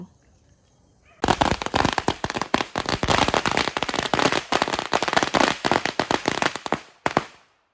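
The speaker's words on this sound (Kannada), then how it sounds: "ಈಗ 15 ಶಾರ್ಟ್ಸ್ ಪಟಾಕಿ ಮತ್ತು ಮಾಲೆ ಪಟಾಕಿ ತಗೊಬಂದಿದ್ದಾರೆ" A rapid volley of 15-shot firecracker bursts at a Christmas celebration cracks loudly and close, dozens of sharp bangs in quick succession for about six seconds before stopping.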